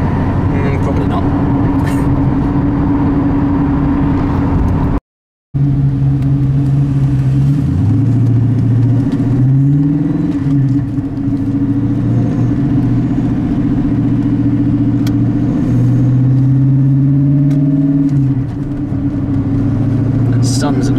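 A TVR sports car driving on a road, heard from inside the cabin: a loud, steady engine drone that rises and falls in pitch through gear changes, with no pause except one short dropout.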